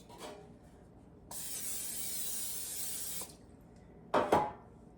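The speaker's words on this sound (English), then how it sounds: "I'm going to spray with cooking spray." Cooking spray hisses from an aerosol can onto a 9x5-inch loaf pan in one steady two-second burst, close and clear, followed by a short clatter of handling.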